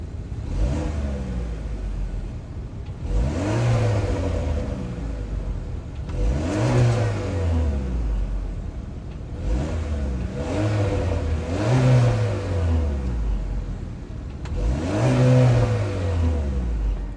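The 1.5-liter turbocharged four-cylinder of a 2023 Chevrolet Malibu RS revs from the rear by the exhaust, rising and falling in five repeated throttle blips, each climbing and then dropping back to idle, with no one speaking.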